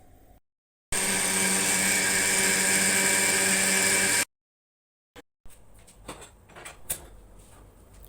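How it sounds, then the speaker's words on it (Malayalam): A kitchen mixer grinder whirs loudly, blending curd for buttermilk in a steady, high-pitched burst of about three seconds, followed by quieter clatter as the jar is handled. "അപ്പം അത് മിക്സിക്കകത്തിട്ട് വേണം"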